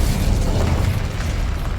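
An Incendio fire spell blasts in Hogwarts Legacy, a loud, close, roaring burst of flame that holds as a continuous rumbling whoosh for about two seconds with no voices.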